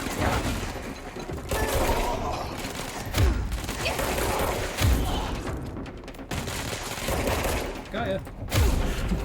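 Bursts of gunfire and blasts from enemies in the action game Control, repeated volleys and thuds layered with a player speaking excitedly between them.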